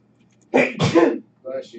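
A single sharp sneeze during a live coding stream, close and loud, with a short vocal sound right after it.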